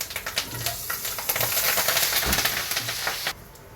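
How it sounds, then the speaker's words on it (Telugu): Fresh curry leaves crackle and sizzle in hot oil for a homemade mixture snack, a dense close hiss with bursts of popping that cuts off abruptly near the end. "చూడండి కరివేపాకు కూడా ఫ్రై అయిపోయింది"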